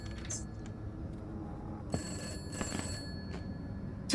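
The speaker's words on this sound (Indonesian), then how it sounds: "Ada itu telepon. Masuk pintu. Ada telepon di luar." A telephone rings faintly in the background, thin bell-like tones over a low steady hum, fairly distant and quiet, with a few soft knocks and shuffles nearby.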